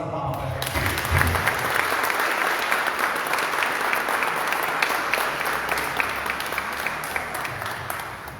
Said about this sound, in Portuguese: dá uma salva de palmas para a gente